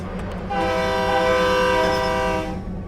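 A train locomotive in Train Simulator (Railworks) gets under way. A steady, sustained horn-like tone with stacked harmonics rises over a low rumble, holds for about two seconds, then fades. No one talks.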